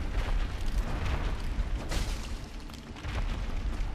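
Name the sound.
boss explosion attack in the video game Dark Souls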